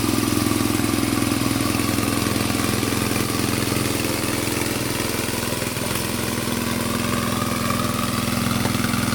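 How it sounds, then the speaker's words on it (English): A BMW R NineT motorcycle engine running steadily at idle nearby, an even mechanical rumble with light clatter that holds at a constant level throughout. "I actually got the engine running"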